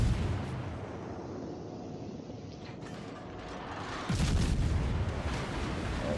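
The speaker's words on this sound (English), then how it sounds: "All stations, concentrate fire on the enemy warship." Naval guns of the destroyer Cossack fire at an enemy warship in a naval combat video game: a dull ongoing rumble of battle, then a heavy boom around the four-second mark followed by a sustained roar.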